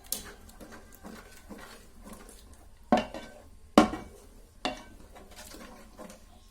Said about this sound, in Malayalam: ഒന്നാക്കി ഇങ്ങനെ ഇളക്കി കൊടുത്തോണ്ടിരിക്കണേ.